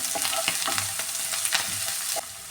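Onions and curry leaves sautéing in a pan for a kovakka and carrot stir-fry, a close, steady sizzle with repeated scraping strokes of a spoon, no voices.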